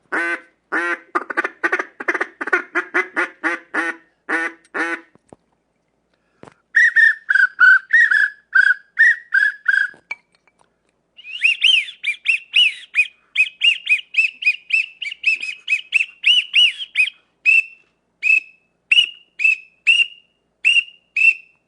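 A caller blows handheld duck calls in quick rhythmic series, imitating teal, wigeon, mallard and pintail ducks, with sharp whistles and peeps grouped in bursts with short pauses between them, loud and close with no talking.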